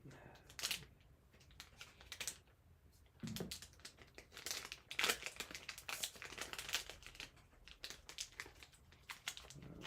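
Scissors snip and crinkle through a thin foil Magic: The Gathering booster pack wrapper in a series of short, close crackling cuts, with brief pauses between them.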